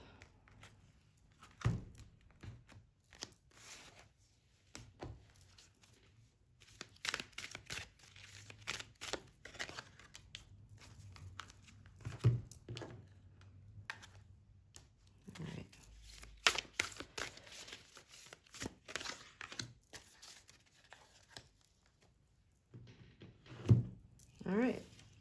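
Soft riffling and brisk shuffling of playing cards in repeated bursts, with occasional thumps and rustles, recorded close up.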